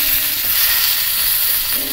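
Eggplant frying in hot oil in a wok gives a loud, steady sizzle and hiss that runs unbroken throughout, close and with no voices.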